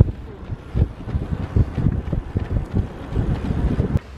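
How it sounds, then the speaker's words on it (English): Wind buffets the microphone in rough, low gusts during an outdoor marathon-pace running session, loud and uneven, with a voice partly under it. "Perhaps you'll hear the wind a little bit more now"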